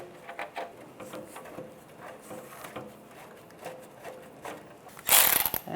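A hand ratchet clicks in short, quiet bursts of rapid pawl ticks while intake bolts are snugged down on a 1996–2002 Toyota 4Runner. A louder clattering scrape comes near the end.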